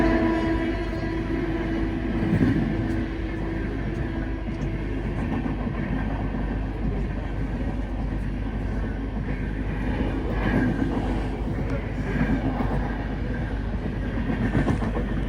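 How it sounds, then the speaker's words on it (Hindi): A Chennai–LTT superfast train rumbles past on Indian railway tracks in a steady, loud roar for about fifteen seconds, with faint rhythmic wheel clatter and no voices. "Chennai LTT superfast."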